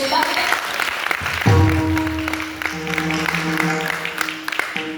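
Audience clapping at a kirtan in Maharashtra, a burst of applause mixed with a sustained harmonium-like drone and a voice over it, loud and close.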